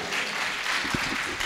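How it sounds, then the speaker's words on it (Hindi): Loud, dense applause fills the hall at a Hindi-Urdu poetry recital as a poet is invited to read a ghazal, a brief burst of many hands clapping close and continuous. "बहुत ज़ोर तालियां बजाइए।"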